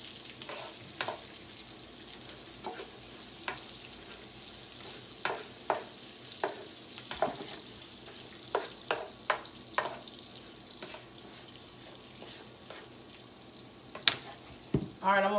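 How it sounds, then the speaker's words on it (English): Thyme stirred through sizzling butter in a pan: a steady, close frying hiss runs throughout, punctuated by light spoon clicks and scrapes against the pan, with no talking. "I'm just stirring the thyme around in the butter as I bring it back over into the dish"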